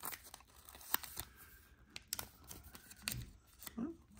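Zombaes Forever toy package being torn open by hand: close, crisp ripping and crinkling of packaging in short bursts, with quiet handling noises between them.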